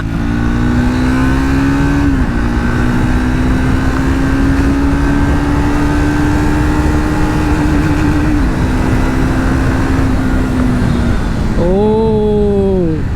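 A Triumph Speed 400 motorcycle accelerates hard in a top speed run, its loud, close engine droning steadily higher through long gears with brief dips at each upshift.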